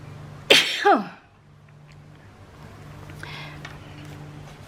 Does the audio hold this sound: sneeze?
yes